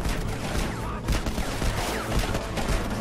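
A machine gun fires in Conflict: Denied Ops during a raid on an abandoned Russian base, rapid crackling bursts with sharp shots scattered among them, fairly distant and sustained over a few seconds.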